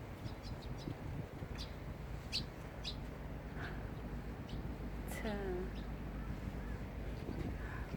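Birds calling from the high mountain slopes on Gadeokdo island, a few scattered chirps and short calls rising over steady wind-like background noise, moderately distant.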